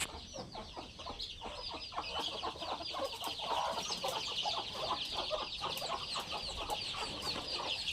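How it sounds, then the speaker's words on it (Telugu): Hens and chicks cluck and peep inside a coop, a busy, continuous chorus of high chirps over lower clucks, fairly close. "కోడి పిల్లలు ఇప్పుడైతే ఎంటర్ కోళ్ళ పిల్లల దాంట్లోకి మీరు చూసుకోవచ్చు."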